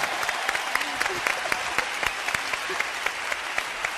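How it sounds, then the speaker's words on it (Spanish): An audience claps at a live comedy show, a steady, moderately loud burst of many hands with distinct individual claps popping out of the dense patter. "Un aplauso."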